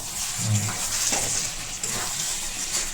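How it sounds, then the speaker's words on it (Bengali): Goat meat cooks in a pan with a steady, close hiss of sizzling and a brief stir partway through. "এই যে পাঁঠার মাংস রান্না হচ্ছে এখন"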